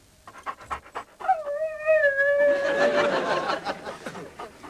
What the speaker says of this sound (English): Then they usually start to whine.